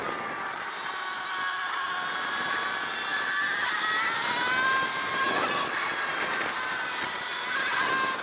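An Alta Redshift SM39 electric motorcycle climbs Sierra Road, its motor giving a steady high whine that rises and falls in pitch over continuous wind rush, close and fairly loud throughout.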